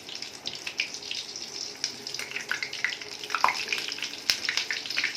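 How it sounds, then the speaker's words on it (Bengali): Chicken egg cutlet frying in a pan over a medium gas flame, a steady crackling sizzle with scattered pops and spits, close and moderately loud, with no talking. "আমাদের কাটলেটটা ভাজা হচ্ছে"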